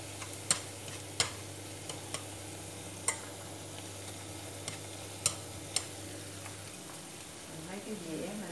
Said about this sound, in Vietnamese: Dầu nó nóng mình bỏ vô chiên nha các bạn